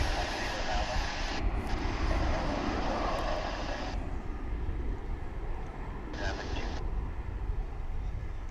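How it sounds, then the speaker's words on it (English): Airbus A321 airliner at DFW International Airport, a broad continuous jet engine roar at steady loudness throughout, with faint intermittent voices underneath. "American Flight 2385 to Las Vegas. Airbus A321 now exiting your screen."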